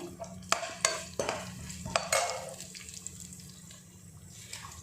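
Onion with cinnamon and cloves sizzling in a pot, a steady fry under a few sharp clanks and scrapes of a spoon stirring, close and fairly loud.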